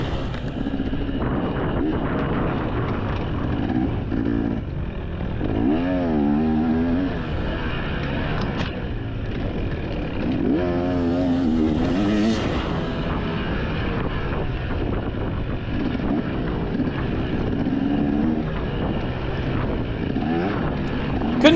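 Motorcycle engine droning steadily through a scramble race at Southern Roots Race Tour round 2, Boro, with rising and falling pitch sweeps as the rider accelerates through the gears, loud and continuous with wind noise.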